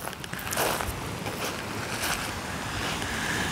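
Waves of the Sea of Azov wash steadily onto a beach, a continuous close rush of surf with wind buffeting the microphone and no voices.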